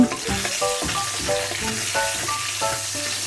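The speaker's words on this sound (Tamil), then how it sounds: "ஒரே ஒரு பச்சை மிளகாய் அதை போட்டு நல்லா வதக்கிக்கோங்க" Green chili and bay leaf sautéing in hot oil for a paneer gravy, a continuous crackling sizzle with scraping stirs of a spatula against the pan, close and fairly loud, no voices.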